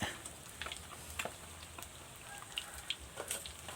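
Fish frying in oil in a home kitchen, a soft, steady crackling sizzle with scattered pops and spits throughout, faint and continuous with no talking.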